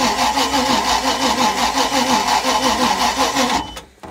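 A hot Mercruiser 5.7 small block boat engine cranks over steadily on the starter with a rhythmic, loud churning that does not catch, then cuts off abruptly near the end.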